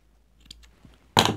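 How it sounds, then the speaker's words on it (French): Ribbon scissors slice through a piece of ribbon for a handmade card bow: a few faint clicks, then one short, crisp, close cut at the end. "Je prends mes ciseaux à ruban."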